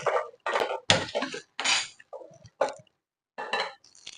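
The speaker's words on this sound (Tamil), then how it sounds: "குக்கர் அடுப்பில் வச்சாச்சு." A pressure cooker set down on a home kitchen stove while cooking mutton kulambu, heard as several close metallic clanks and scrapes of metal against the burner in short bursts, with brief quiet gaps between them.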